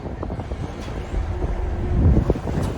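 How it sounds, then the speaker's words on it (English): Wind gusts buffet a steel 65-foot salvage boat moored at a wharf, making a steady low rumble against the microphone that swells louder midway, with faint water and hull sounds underneath. "there's a wind blowing us onto the wharf"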